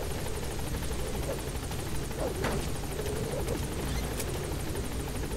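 A helicopter in the video game Metal Gear Solid 5 gives a steady, moderately quiet rotor drone with a fast chopping pulse, constant throughout with no talk.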